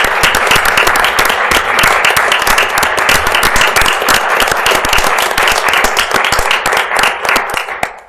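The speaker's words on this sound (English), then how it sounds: "would you mind standing so we can give you a round of applause as we support you tonight?" Lehi city employees stand for a round of applause at a city council meeting, a loud, dense burst of many hands clapping that carries steadily for several seconds before tapering off.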